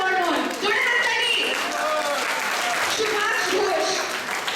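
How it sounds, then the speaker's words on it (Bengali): Loud, sustained audience applause at a Saraswati Puja 2024 celebration as costumed children are introduced, a dense steady wash of clapping with a voice talking over it throughout. "জোরে হাততালি।"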